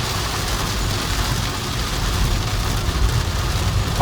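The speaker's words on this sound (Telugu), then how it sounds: "అంత వర్షం." Heavy rain pounds a car during a drive on a road to Tirumala, a dense steady wash over a low engine rumble, constant and close throughout with no talk.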